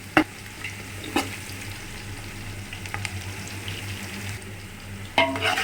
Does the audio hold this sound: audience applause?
no